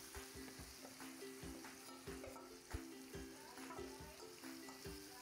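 Raw banana slices fry in hot oil with mustard seeds, a steady close sizzle broken by repeated sharp clinks and scrapes of a stirring spoon against the pan.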